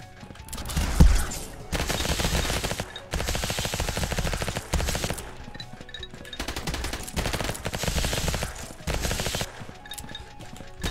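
Rapid machine gun fire in the video game Vampire Hunters, loud bursts of fast repeated shots broken by short pauses, close and continuous over a background of game sound.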